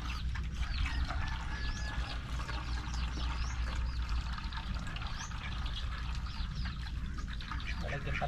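Water is poured into a goat's drinking water to be mixed with salt, a steady trickling splash heard close by, with faint animal or bird chirps in the background.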